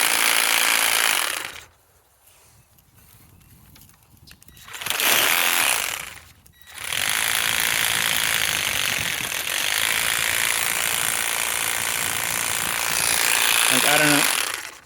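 A Ryobi P2503 ONE+ 18V pruning reciprocating saw runs in loud, harsh buzzing bursts, dropping out briefly twice before grinding on steadily under load, sounding strained as it bogs down.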